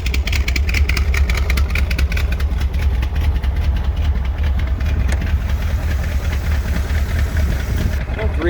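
1968 Chevrolet Corvette with a 383 stroker engine idling close up, a loud, steady, rumbling, slightly lumpy idle throughout, with voices faintly under it.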